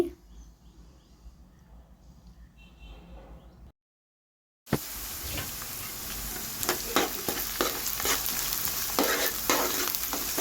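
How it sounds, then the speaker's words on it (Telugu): Onions frying in a pan, being cooked to golden brown for a fish stew. Quiet kitchen noise breaks off into a brief silence, then a loud, dense sizzle erupts with repeated stirring scrapes and clatters. "ఇక్కడ ఈ ఆనియన్స్ ఇవన్నీ కూడా ఒకసారి బాగా ఫ్రై చేసేసుకోండి"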